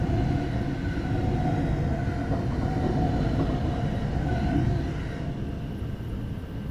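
A Class 450 electric train braking as it pulls into Brookwood station in Train Simulator 2017: a steady, loud rumble with a low hum that eases slightly toward the end.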